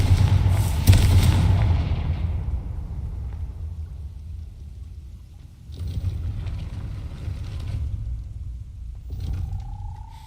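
A Confringo blasting curse explodes in Hogwarts Legacy with a loud, booming blast that rumbles and fades over a couple of seconds, followed by a second, softer burst of game sound and ambient noise.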